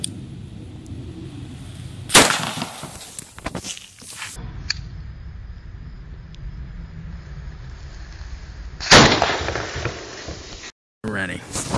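A small cannon fires twice, each blast a sharp, loud crack standing out against quiet outdoor background, with a few voices speaking between and around the shots.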